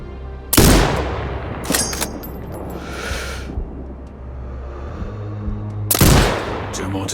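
Sniper rifle shots in the video game Sniper Ghost Warrior at a shooting range, three sharp loud reports spaced a few seconds apart, each trailing into a rumbling echo over low background ambience.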